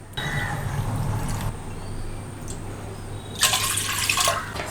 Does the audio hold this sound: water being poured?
yes